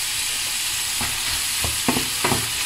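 Prawns and onion flowers being stirred in a frying pan over a soft continuous sizzle, with a few scraping strokes of a utensil near the end, close and without speech.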